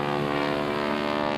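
A North American SNJ Texan propeller trainer at the 2002 NAS Oceana airshow gives a loud, steady engine drone with a rich buzzing tone, holding constant throughout with no voices over it.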